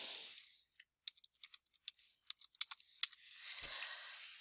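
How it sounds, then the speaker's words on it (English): Fingers tap out a short word on a computer keyboard, a dozen or so crisp, close keystrokes in an uneven rhythm, framed by soft hiss before and after. "we're going to type in Yellowstone."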